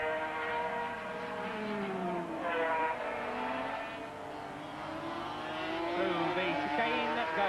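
500cc Grand Prix motorcycles race at Donington Park, with continuous high-revving engine whine rising and falling as the bikes pass, heard under a commentator's steady talk.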